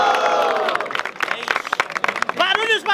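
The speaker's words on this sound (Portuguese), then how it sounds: "Barulhos, barulhos pra quem gostou das rimas do Apollo" A rap battle audience at a student freestyle event cheers and claps loudly, with overlapping shouts and crowd noise throughout the short burst.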